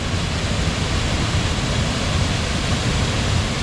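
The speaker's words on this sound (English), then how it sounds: "Look how much water's coming up out of there." Water pours out at a creek dam at York Haven in a steady, loud, broadband rush. The roar holds constant and close, with no voices.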